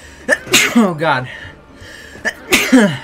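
Someone sneezes, maybe twice in quick succession, close and loud during a co-op stream of It Takes Two, with voices talking around it.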